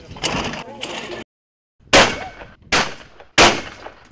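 Three sharp, loud gunshots ring out in quick succession, each followed by a short decay, after a brief stretch of voices and a moment of silence.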